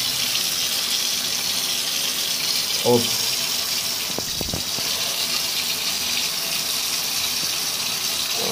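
Water leaks from the microswitch of a faulty Junkers gas water heater into a bathtub, a continuous loud gushing stream with faint short ticks partway through and a brief bit of speech.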